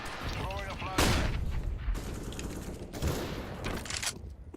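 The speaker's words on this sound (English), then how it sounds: "Throwing a flashbang." A flashbang thrown during a Counter-Strike match: sharp, loud bangs at intervals set against a dense wash of in-game gunfire and explosions, with faint voices underneath.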